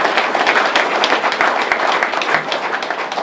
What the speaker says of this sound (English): So we gave the House a round of applause.